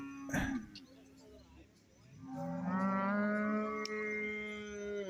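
Cattle at a buffalo market call out in a brief bellow, then, after a pause, a long sustained moo lasting several seconds, heard close amid faint background market noise.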